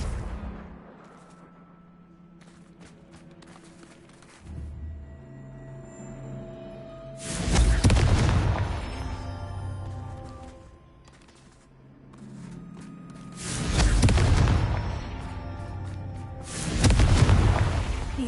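Confringo fire spell explosions burst in Hogwarts Legacy, three loud booming blasts with broad rumbling roars spaced several seconds apart over a low game ambience.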